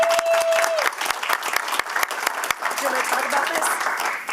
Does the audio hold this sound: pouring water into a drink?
no